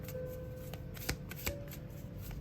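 A deck of angel oracle cards is shuffled close by, a soft steady riffling with two sharper snaps partway through, quiet and without talking.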